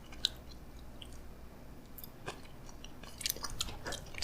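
Soft, close chewing on a bite of Korean pizza topped with kimchi, with faint crunchy and moist mouth sounds and a few sharper clicks over quiet room tone.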